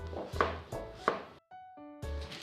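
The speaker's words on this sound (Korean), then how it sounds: "늙은 호박은 껍질을 벗겨 한 입 크기보다 약간 크게 썹니다." Peeled ripe pumpkin is chopped into chunks for kimchi, giving a few dull, close knife strikes on a cutting board with brief tonal music between them.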